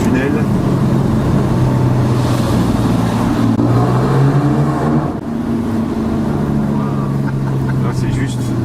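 Porsche 997 Carrera MKII with a SCART exhaust, valves open, droning loudly and steadily inside a tunnel, its rumble echoing off the walls with a brief dip in revs partway through.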